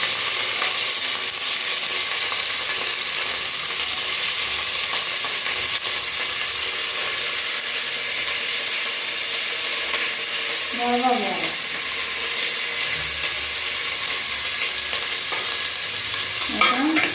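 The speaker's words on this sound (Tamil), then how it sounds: "கல் பொரிஞ்சிருச்சு அப்புறம் வெங்காயம் போடுறேன்" Onions fry in hot oil right after mustard seeds have spluttered, making a steady loud crackling sizzle with occasional stirring, while a faint voice is briefly heard in the background.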